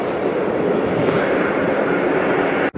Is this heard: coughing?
no